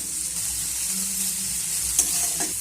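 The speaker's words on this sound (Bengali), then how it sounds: "সব কিছু আমি আবারও ভালো করে নেড়ে চেড়ে নেব।" Chopped tomato and onion stirred and fried in a pan, a loud, even sizzle with a couple of brief spatula scrapes near the end.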